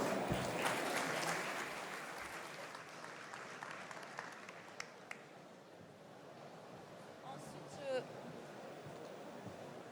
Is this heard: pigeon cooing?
no